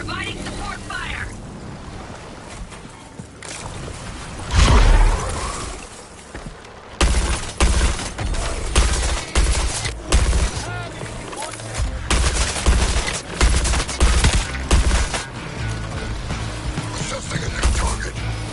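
Rapid support gunfire in the video game Suicide Squad: Kill the Justice League, loud bursts of automatic fire with a heavy boom near the start, then sustained crackling volleys through the rest.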